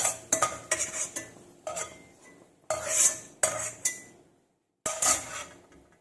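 A metal spoon scrapes and clatters repeatedly against a pan while fried ingredients for semiya payasam are scooped out of hot ghee, a busy run of close, loud knocks and scrapes with one brief silent gap.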